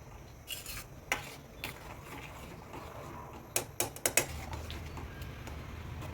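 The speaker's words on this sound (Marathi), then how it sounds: "भाजी छान हलवून घ्यायची आहे" A spoon clinks and scrapes against a pan while thick chickpea curry is stirred, giving a few sharp metallic taps and a quick cluster of clicks over a soft cooking hiss.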